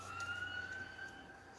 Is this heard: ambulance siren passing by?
yes